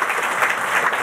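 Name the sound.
meeting audience applause for DOT staff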